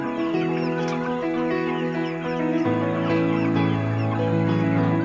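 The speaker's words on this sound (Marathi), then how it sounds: "माझा साडेतीन हजार कोंबड्यांचा ब्लॉग आहे" A dense chorus of chickens clucking and murmuring continuously, many birds close by in a crowded poultry shed of about 3,500 birds.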